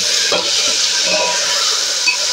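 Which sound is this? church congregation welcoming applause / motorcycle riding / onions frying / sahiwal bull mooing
onions frying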